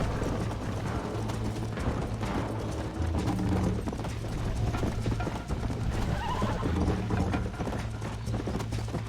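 Horse galloping in the video game Red Dead Redemption, a continuous rhythmic clatter of hooves with creaking tack under steady outdoor ambience, with no voices.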